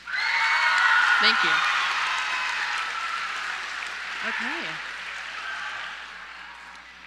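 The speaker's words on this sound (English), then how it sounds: "Can I first get a round of applause for how great everyone looks tonight?" A middle school promotion ceremony crowd gives a round of applause, a broad wash of clapping that swells quickly and slowly fades, while someone speaks briefly over it.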